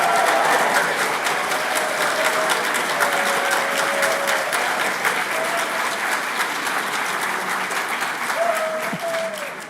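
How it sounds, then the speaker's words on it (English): Graduation audience in a hall clapping and cheering loudly and steadily, a thick sustained wave of applause that thins slightly toward the end. "let's give a big cheer for the graduating class of 2026"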